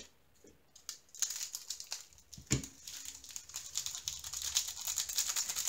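Plastic baggies rustling and crinkling while being handled, a continuous close crackle with small taps and one sharper clack, loud and steady with no talk.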